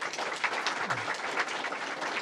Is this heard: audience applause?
yes